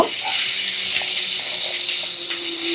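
Nigella seeds crackle in mustard oil in a kadai for tempering, a loud, dense, continuous hiss filling the whole stretch at close range, with no voices.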